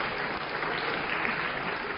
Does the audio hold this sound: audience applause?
yes